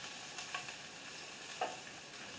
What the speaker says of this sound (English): we're going to stir it down. And keep on stirring this one.